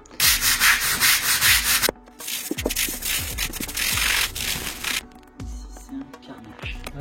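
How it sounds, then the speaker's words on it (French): Stiff brush scrubbing along tile grout joints, rough bursts of abrasive rubbing with short pauses between strokes, close and fairly loud, with no talking. "Là, j'ai fait les joints à la brosse."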